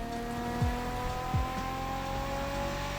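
A Nissan GT-R race car drives through Hawaiian mountains in The Crew Motorfest, its engine a steady, close drone with a couple of quick gear-shift dips and no talking over it.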